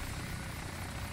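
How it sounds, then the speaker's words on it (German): A tandem-rotor helicopter flies in the video game DayZ, its dense rotor and engine roar filling the moment loudly and continuously with no talking. "Dieser Doppelrotor hinter dem Hubschrauber, unter dir!"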